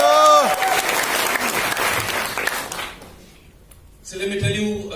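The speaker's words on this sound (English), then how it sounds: "Give yourselves a big round of applause." Training-session audience in Imphal breaks into loud, sustained applause lasting several seconds, many hands clapping together, tapering off before a voice and brief tonal sounds return at the end.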